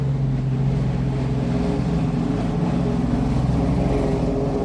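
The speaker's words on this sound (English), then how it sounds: "That was a very loud car. That was an old Ford." An old Ford car passes loudly, its heavy low engine rumble steady and close throughout with no talk over it.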